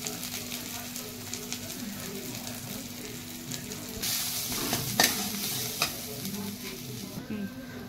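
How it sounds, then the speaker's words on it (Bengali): Cumin powder added to a hot pan of cooking prawns and stirred, a continuous close sizzle with spatula scrapes and a louder burst of frying partway through, faint voice in the background. "বন্ধুরা আমি এতে জিরের গুঁড়ো দিচ্ছি।"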